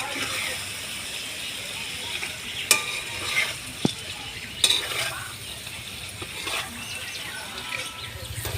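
Food frying and being stirred in oil, a steady soft sizzle with occasional clinks of a utensil against the pan; fairly quiet and close.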